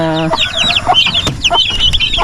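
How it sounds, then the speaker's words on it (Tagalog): A mother hen calls out loudly and close by with repeated sharp clucks and squawks among other fowl, a brief harmonic cry at the start and overlapping bursts of calling through the rest. "May isang inang manok nandito na rin. Nagasigaw na."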